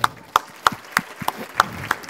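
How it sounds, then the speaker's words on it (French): A few people clap at a steady, sparse rhythm, about seven distinct claps in two seconds, close by with no talking. "On peut applaudir Marion?"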